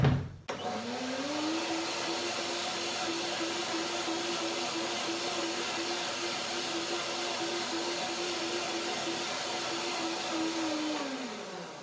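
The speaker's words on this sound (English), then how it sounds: "one more blending to make it really creamy" A kitchen blender whirs steadily through a cilantro cashew cream dressing, a close, even motor hum that holds for about eleven seconds and then stops.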